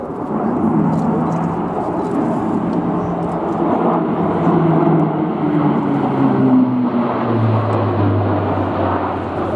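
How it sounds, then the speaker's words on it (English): Airbus A400M military transport aircraft in a flying display at RIAT 2016, a loud sustained turboprop roar with shifting drone and rising tone as it passes, continuous throughout with no talk. "This is the most impressive large aircraft display that you're going to see this weekend"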